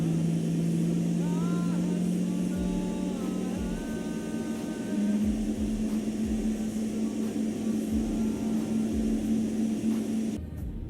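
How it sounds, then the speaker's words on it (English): A steady Boeing 777 jet engine drone in Microsoft Flight Simulator with tonal whines rising in pitch as it spools up, humming continuously under a faint background hiss. "while we wait for the engine to spool up, as you can hear that in the background"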